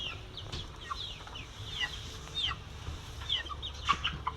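A flock of young chickens about a month old clucking and peeping continuously in a backyard farm coop, several birds close by over a steady low background hum.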